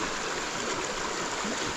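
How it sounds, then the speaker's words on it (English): A shallow river flowing beneath a bridge, a loud, steady broadband rush of water that continues without a break. "Just look at the river."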